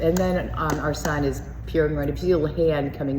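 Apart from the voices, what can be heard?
None of the usual background noises is heard.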